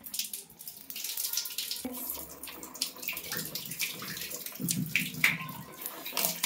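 Water balloons filling from a tap during Holi, a steady rushing of water with small splashes and drips, moderately close and continuous, with no talk.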